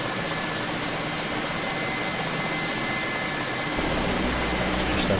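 A Mil Mi-8 MTV Hip helicopter in the flight sim DCS drones with a steady, broad turbine whine and rotor roar, loud and unbroken, deepening slightly toward the end.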